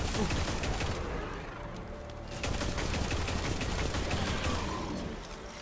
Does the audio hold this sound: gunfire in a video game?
yes